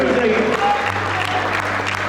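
Audience applause at a mushaira poetry gathering in Muscat, Oman, a steady sustained clapping from a large crowd filling the room, with some voices mixed in.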